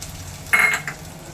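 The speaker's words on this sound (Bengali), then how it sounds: "ওই কড়াইয়ের ওপরে আমি পেঁয়াজ দিয়ে দেবো।" Onions dropped into a hot wok for a dhaba-style paneer dish, making a brief loud hiss and clink of stirring that quickly fades.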